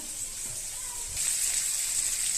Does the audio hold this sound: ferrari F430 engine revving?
no